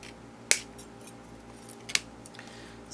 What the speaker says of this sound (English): So I just have to cut these apart.